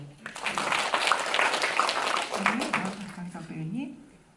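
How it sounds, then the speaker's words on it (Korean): Brief audience applause at a Korean film press conference, a quick burst of clapping that tapers off as a voice begins speaking over it. "박수를 좀 드리겠습니다."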